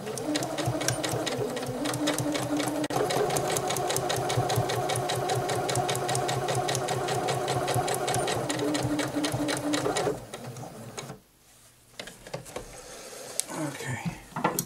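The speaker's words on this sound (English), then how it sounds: "We're going to be prepared to do the back stitch." A sewing machine runs fast and steady for about ten seconds, its rapid needle rhythm loud and close with a brief change in pace as it works a back stitch, then slows and stops amid faint handling noise.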